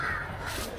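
A crow caws in a park, a single harsh call standing out over steady outdoor background noise at close to moderate distance.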